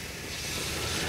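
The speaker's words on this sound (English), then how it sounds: "You can hear it sizzling in the background." Chicken sizzling on a GrillGrate set on a Blackstone flat top griddle, a steady, dense hiss that swells slightly over a brief stretch, with no talking.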